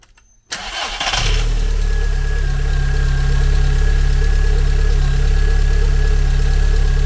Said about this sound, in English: now let's start the engine, see how we're looking